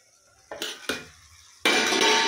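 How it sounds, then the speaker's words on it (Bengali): A cooking pot lid clinks and scrapes twice as it is lifted, followed by a louder sustained metallic rattle and hiss; close and alone, with no talking. "তো এখন আমি ঢাকনাটা খুলে দেখছি"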